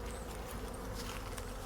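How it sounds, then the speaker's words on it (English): Honey bees hum in a double-deep hive during late winter, a dense continuous buzz heard up close, steady and unbroken, with no talking. "they have a decent amount of bees"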